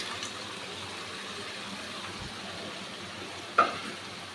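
Marinated crabs frying in spiced oil, a steady soft sizzle throughout with one sharp knock of the stirring utensil near the end, close and moderately quiet, no voices.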